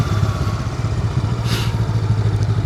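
A motorcycle engine runs close and loud with a steady low throbbing idle-like rumble and slight rev fluctuations as the rider downshifts, with no voices.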